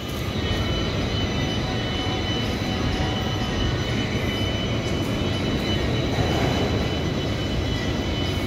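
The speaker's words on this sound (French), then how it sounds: "le métro est passé à un intervalle de 5 minutes" A Lyon Metro line D train runs with a steady, loud, broadband roar and rumble that holds constant throughout, like riding inside or close to the moving carriage.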